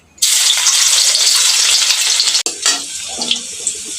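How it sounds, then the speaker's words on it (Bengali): Crushed garlic hitting a little hot oil in a pan sets off a loud, steady sizzle that holds for a couple of seconds, briefly cuts out, then resumes with stirring scrapes and softer crackling. "কড়ার উপর দিয়ে দিলাম আমি সামান্য পরিমাণ তেল। বন্ধুরা, প্রথমে আমি দিলাম এখানে রসুন থেতো।"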